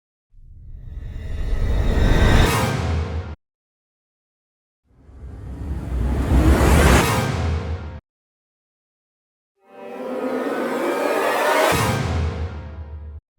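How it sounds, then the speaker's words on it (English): Three synthesized swelling sweeps from Native Instruments Rise and Hit. Each builds for about three seconds and then cuts off abruptly, separated by short silences, with no voices. "You've heard that descent sound in a lot of creepy movies."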